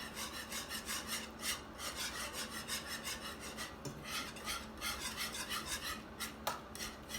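Egg yolks are beaten into a cheese soufflé base off the heat, making quick rhythmic scraping and rasping strokes of a utensil against the pan, close and continuous with no voices.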